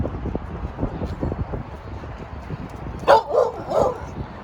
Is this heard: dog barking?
yes